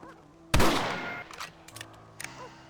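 A single loud rifle shot rings out in a Red Dead Redemption scene, its echo trailing off, followed by quieter clicks and handling noises of the rifle.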